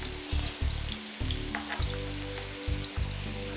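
Meatballs sear in hot oil in a frying pan, a loud, crackling sizzle with a deep rumbling layer that comes and goes in short bursts as the pan is moved.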